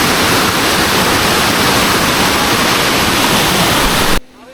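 A small waterfall on a muddy hill trail in the Rangamati hills of Bangladesh, after continuous rain, pours as a steady, loud, broadband roar with no voices, then cuts off abruptly near the end.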